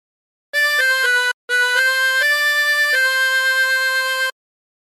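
A chromatic harmonica plays a phrase, a run of sustained reedy notes changing pitch, with a short gap early on and a long held final note, solo and close.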